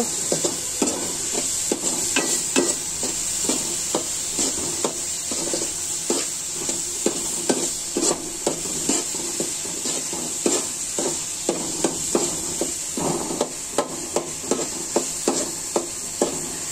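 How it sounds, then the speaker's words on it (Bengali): Red lentils are stirred while dry-roasting in a pan, making repeated rhythmic scraping and rattling strokes over a faint steady hiss, close and continuous, with no talking. "ডালগুলো একটু ভালো করে নাড়াচাড়া করে নিতে হবে গরম হওয়া পর্যন্ত।"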